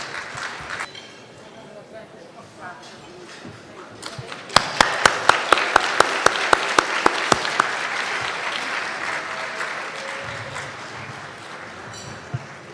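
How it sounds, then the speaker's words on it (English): Audience at a health-focused charity gala breaks into applause, beginning with a few sharp, close claps and swelling into sustained clapping that tapers off slowly. Someone speaks just before it starts. "Give him a round of applause."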